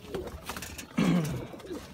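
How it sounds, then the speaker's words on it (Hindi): A Firozpuri banka pigeon gives one low, rolling coo close by, rising above quiet background rustle for about half a second. "ये एक फिरोजपुरी बांका कबूतर है, ये आपके सामने"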